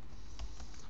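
Keystrokes on a computer keyboard as a Linux command is entered, a few quick light clicks clustered close together over steady room hiss.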